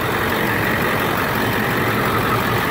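A 1999 Ford F250 extended cab pickup with a 7.3L Power Stroke diesel idles steadily, a close, even, low rumble with a dense clatter and no voices.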